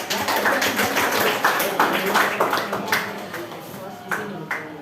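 Classroom applause for a student, a dense burst of clapping from many hands that stays loud and steady throughout, with sharper accents scattered across it.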